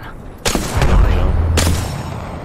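Gunfire in a military shooter video game: two loud, close shots, the first followed by a deep rumbling boom, the second a sharp crack about a second later, with game ambience underneath.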